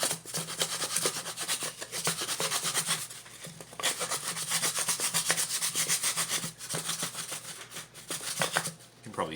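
A wooden stick rubs and scrapes inside a wooden Native American style flute tube, a steady rasping friction that runs nearly throughout with brief catches and pauses, close and alone with no talk.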